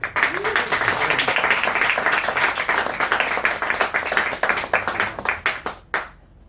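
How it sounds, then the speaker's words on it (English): A crowd claps and applauds steadily for several seconds, then the clapping thins out and stops abruptly. "One round of applause so I can focus, please."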